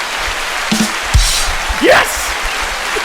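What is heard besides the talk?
looping round of applause sound effect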